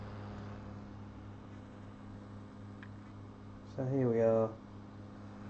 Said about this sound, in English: Take the Zalman down to 2000 and we'll check the noise difference between that and the ordinary G5.